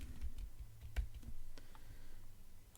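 Soft typing on a computer keyboard, a quiet scatter of uneven key clicks close by.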